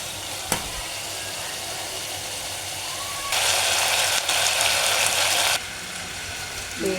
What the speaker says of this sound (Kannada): ಚಿಕನ್ ತಂದು ತೊಳ್ಕೊಂಡು ಈಗ ಅದನ್ನು ಬೋಗಾಣಿ ಹಾಕಿ ಬಿಸಿ ಮಾಡಾಕೊಂತೀವಿ